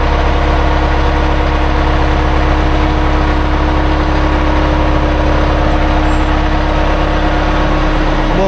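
A farm tractor engine idles steadily and loudly beside a tobacco dryer, a constant low rumble holding an even pitch with no pauses throughout.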